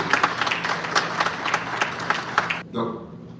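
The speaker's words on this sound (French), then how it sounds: "Applaudissons le Seigneur." A church congregation applauds at a college graduation ceremony, with dense clapping for about two and a half seconds before it cuts off abruptly into a quieter room.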